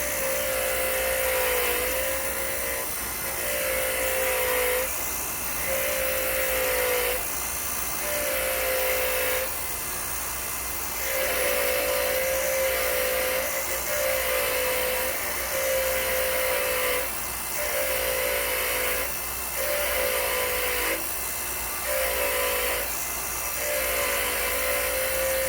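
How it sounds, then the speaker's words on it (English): A wire wheel on a power tool scours a seized brake caliper, a steady high whirring grind repeated in short bursts of roughly a second each, separated by brief pauses, close and fairly loud throughout. "never stand in a direct line of the wire wheel or grinding wheel or whatever"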